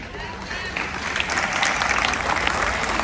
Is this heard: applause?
yes